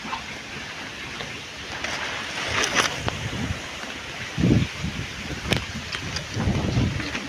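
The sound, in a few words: strong wind blowing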